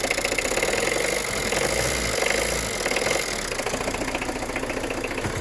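A 1.9 diesel engine in a ZX idles roughly nearby, with an uneven knocking, rattling beat throughout.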